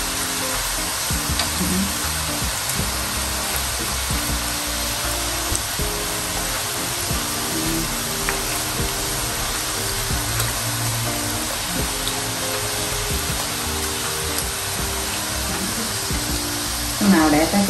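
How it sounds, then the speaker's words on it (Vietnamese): Pig ear cookie dough frying in hot oil, a steady broadband sizzle and bubble holding evenly through the whole stretch, close and fairly loud, with no talk over it. "Mình chiên cho nó dạng chút xíu."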